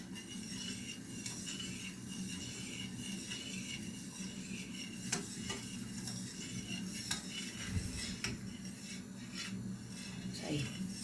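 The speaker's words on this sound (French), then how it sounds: "Il faut mélanger tout le temps." A spoon stirring chocolate dessert cream in a pan, producing a steady run of soft scraping and light metallic clinks against the pan, with occasional sharper taps over a constant low kitchen hum.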